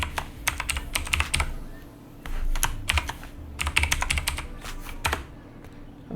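Someone typing a channel name on a computer keyboard, rapid irregular key clicks in short bursts with brief pauses, close and clear.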